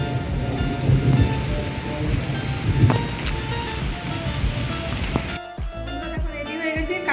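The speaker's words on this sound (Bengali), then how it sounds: "বৃষ্টি হচ্ছে আমাদের এখানটায়। এই দেখো নিচে বুঝতে পারবে জল পড়ছে।" Rain falls steadily on the ground outside during a stormy evening with lightning, a dense close hiss with a faint low rumble, thinning near the end into scattered drips and knocks.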